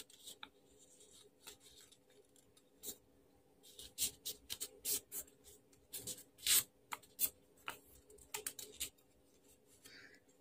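Paper booklet pages folded and creased by hand, a run of crisp rustles and rubbing strokes that grow busier midway, close up and fairly quiet with no talk.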